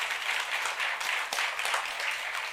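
A church congregation at a Korean youth worship service applauds, a dense steady wash of many hands clapping together throughout.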